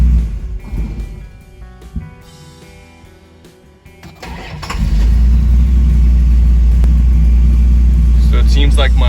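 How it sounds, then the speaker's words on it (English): A 1968 Dodge Charger V8 idles loudly with a heavy low rumble, then its engine note cuts away and the sound settles into lighter mechanical noise as it shuts off. "So I'm going to turn the car off."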